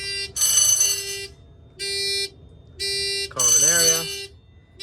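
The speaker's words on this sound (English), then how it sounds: "Just got the text notification now." A phone text notification chimes briefly with a rising tone, heard over the pulsing horn blasts of a Simplex 4100ES fire alarm in a basement.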